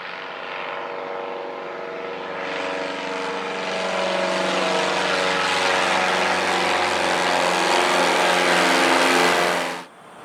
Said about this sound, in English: the passengers got to see a float plane taking off on the Chena River